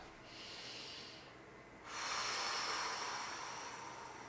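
Deep, steady breathing held through a yoga stretch, a soft airy hiss that swells louder about halfway through and stays broad and close, with no talking.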